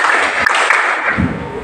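Students in a classroom clap together in a short, brisk burst, close by and fairly loud, lasting under two seconds.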